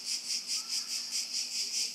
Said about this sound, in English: you're gonna have to ignore the crickets in the background